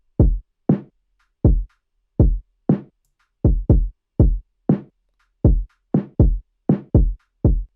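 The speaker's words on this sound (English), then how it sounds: "for the bridge section I wanted some added this sort of vintage drum bounce" A vintage-style bouncy drum pattern for a song bridge: about a dozen punchy, deep kick-like hits with short decays, landing in an uneven, skipping rhythm with silence between them.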